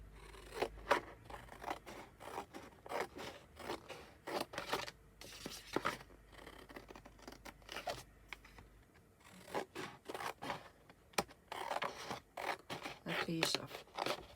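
Scissors cutting paper for a collage, a series of quick close snips and crisp rustling scrapes in uneven bursts, quiet and intimate, with no speech heard.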